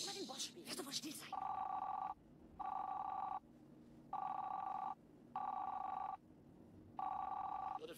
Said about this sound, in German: Würde vielleicht mal jemand von Ihnen an das verdammte Telefon gehen?